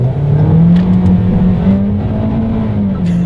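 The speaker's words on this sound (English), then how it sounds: "let's do a quick little acceleration test" A 2020 Toyota Corolla SE in sport mode accelerates hard on a wet road, its engine drone rising steadily in pitch, loud and close throughout with no talking.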